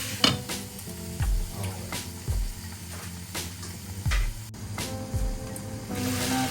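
Tomatoes sizzling in a pot for pork sinigang, a steady loud hiss broken by repeated scraping stirs and occasional clanks of the spoon, with one brief spoken word.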